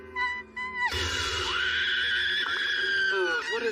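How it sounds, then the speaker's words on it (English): A shrill, sustained cat-like scream rises abruptly after a short voiced lead-in and holds loud and piercing for over two seconds before tapering off, in an English-dubbed anime scene. "I've heard this cat-like scream before."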